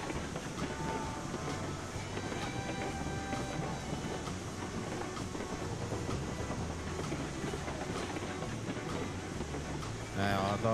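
A freight train in the Railroads Online video game hauls two wagons, giving a steady, continuous rumble of rolling stock with rattling and clatter throughout, close and loud, with a brief sharper burst at the very end.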